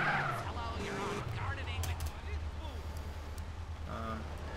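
A car drives in GTA San Andreas with a steady, low engine drone throughout, under speech and brief game sounds.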